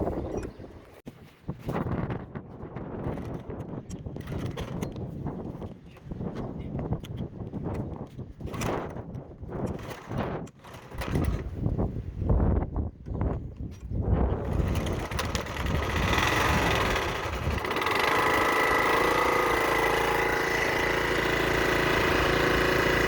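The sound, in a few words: old pressure washer engine starting and running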